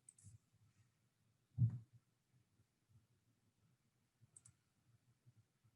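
A few faint, sharp mouse clicks sound in a quiet room while someone navigates the settings menu of a Canvas learning platform online.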